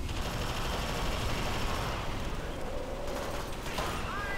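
A sentry gun in Alien Swarm's Landing Bay rattles off steady automatic fire at swarming aliens, a dense continuous burst with mechanical whirs, at moderate volume.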